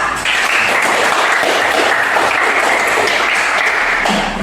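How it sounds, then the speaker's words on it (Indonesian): Sustained applause fills a middle-school classroom as students clap for a classmate, a dense, steady patter at close range, with no talk over it. "Kita berikan aplaus untuk Ani dari kelompok visual"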